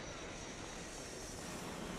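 An airplane taking off and flying gives a steady, fairly faint engine drone that stays even throughout, with no speech.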